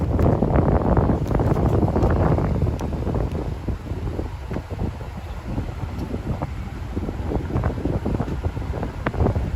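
Strong wind buffets a microphone outdoors on a windy night in downtown Miami, producing a continuous loud rumbling roar with gusty surges and no speech.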